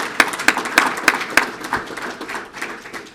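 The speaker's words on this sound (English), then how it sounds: "let's give the families and friends that are here for our officers a round of applause" Applause at a police department swearing-in and promotional ceremony, a crowd clapping in sharp, fairly regular claps up close that thin out and fade over a few seconds.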